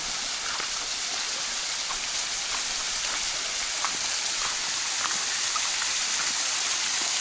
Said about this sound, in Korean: 여기는 뭐 그냥 미니 폭포 미니